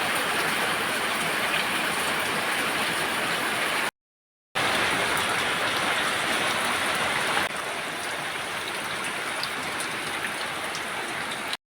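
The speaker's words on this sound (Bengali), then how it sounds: "দেখো কীরকম বৃষ্টি বাইরে।" Heavy monsoon rain pours steadily outside in the evening, a dense, continuous hiss of drops close by that runs almost the whole time with one brief gap, and no voices over it.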